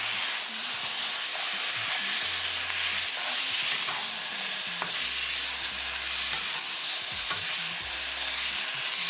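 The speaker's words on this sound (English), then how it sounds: "Keep mixing and cook masala along with tadka for 1 minute." Pork frying in a pan with masala tadka while being stirred, a loud continuous sizzle and hiss with scraping stirring strokes throughout and no voices.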